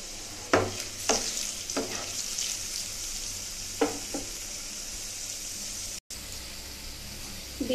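Food frying in mustard oil with a fish-head and potato curry hisses steadily while a utensil stirs and scrapes in a few distinct strokes, then a short cut before the sizzle resumes, no speech.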